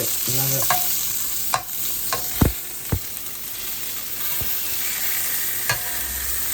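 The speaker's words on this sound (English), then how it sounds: "just gonna give those sides a little sear" Salmon sides sear in a hot pan with a continuous, fairly quiet sizzle, punctuated by a few distinct clicks and taps of a utensil moving the fish.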